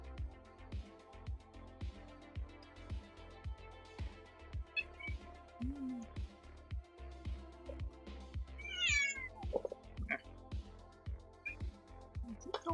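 A house cat meows repeatedly for attention, several clear close meows spread across the clip, including a rising high-pitched call near the middle, over a steady low background hum.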